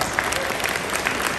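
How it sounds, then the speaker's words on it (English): A concert audience claps for students standing to play their solos, a dense, even wash of applause filling the hall with no break. "just show your appreciation, applaud, it's fine, it's cool"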